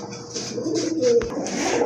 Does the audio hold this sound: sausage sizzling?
no